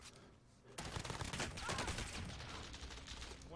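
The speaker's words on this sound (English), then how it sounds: "One up the hill shooting at me." Warzone video game gunfire erupts as sustained, dense rapid bursts after a brief quieter lead-in, loud and continuous with shots overlapping in a busy firefight mix.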